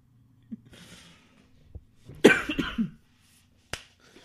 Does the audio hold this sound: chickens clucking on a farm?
no